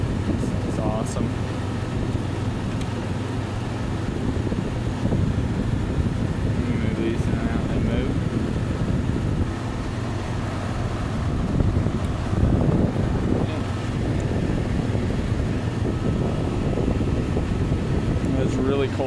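A 1998 Kenmore window air conditioner hums and blows with a steady, airy rush, mixed with wind-like noise across the whole stretch.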